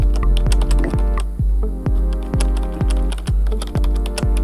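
Typing on a ROCCAT Arvo membrane gaming keyboard: a steady series of soft, shallow key presses at a regular pace, close and fairly loud, with no voices.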